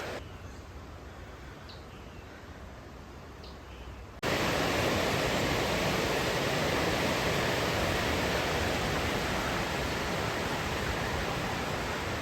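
A river flows as a broad, steady rushing wash of water that grows abruptly louder partway through and then holds constant, with no voices.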